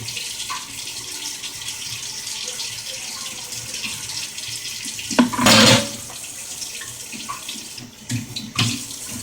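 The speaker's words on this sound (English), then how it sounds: "I'll drain off the water." Water runs from a kitchen sink tap as it is drained off during cooking, a soft continuous flow that swells into a louder gush midway, followed by a few clunks and splashes.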